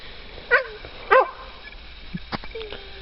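A dog near a blueberry garden in rural Western New York gives two sharp, distinct barks about half a second apart, fairly close, followed by softer yips and outdoor background noise.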